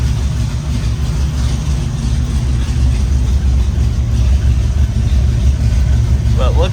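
A 1967 Ford Mustang engine idling with a steady, deep low rumble that holds even throughout, close and loud, with a brief voice at the very end.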